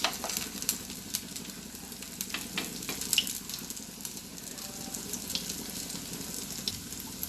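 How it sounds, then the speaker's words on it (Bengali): Potato hash browns frying in hot oil, a steady soft sizzle with scattered crackles and pops, close by and fairly quiet, with no talking. "তারপর তেলের মধ্যে ছেড়ে দিচ্ছি।"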